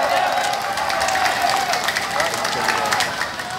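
A large crowd at a live outdoor gathering of workers outside the Merdeka Palace in Jakarta applauds police officers, a steady dense wash of clapping and cheering that holds loud for several seconds.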